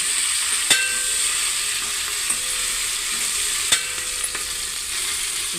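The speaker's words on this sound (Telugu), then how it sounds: "అల్లం వెల్లుల్లి పేస్ట్ కొంచెం పచ్చివాసన పోయినట్టు వేయించాలి" Ginger garlic paste sizzles and fries in a pan with a steady, close crackling hiss, broken by a few sharp clicks from stirring or the utensil striking the pan.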